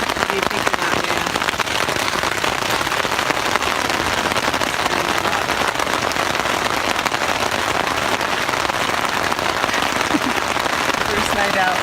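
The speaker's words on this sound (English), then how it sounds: "First night out, and we're getting rained on." Rain patters steadily on a camp rain cover on the first night of a backpacking trip on the Potter Pass Trail to George Lake, a dense, even hiss lasting throughout.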